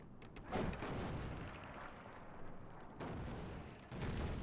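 Artillery fires in a historical strategy game set in France and Granada, a dense rumbling barrage of overlapping booms and muffled blasts, loud and continuous with several sharper thuds rising out of the roar.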